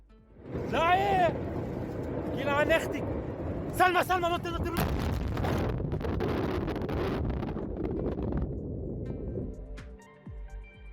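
Footage of the 2020 Beirut port explosion in Lebanon after a warehouse fire, a long roaring rumble with booming blasts and wind buffeting the microphone, while people shout and talk over it.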